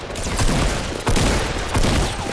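Rapid bursts of gunfire in Fortnite, loud and close, with dense overlapping shots and a brief break before more firing.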